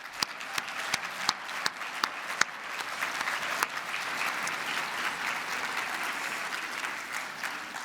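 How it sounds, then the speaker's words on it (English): A banquet-hall audience at an award dinner breaks into sustained applause, starting with a few distinct claps and swelling into dense, steady clapping from a sizeable crowd, heard at a middle distance. "applause."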